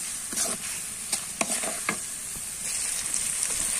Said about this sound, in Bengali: পেঁয়াজগুলোকে হালকা ভেজে এখন দিয়ে দিব পরিমাণ মতো লবণ